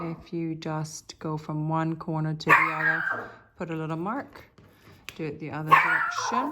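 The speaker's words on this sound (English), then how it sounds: "Sorry about the little dog." A small dog barks a few times in the background, sharp and fairly close, mixed under steady talk from a person speaking indoors.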